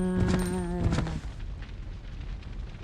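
Enhanced Glock 17 pistol in Resident Evil – Code: Veronica X fired at a zombie: a few sharp, close shots in quick succession under a brief tonal game sound, followed by a low fading rumble.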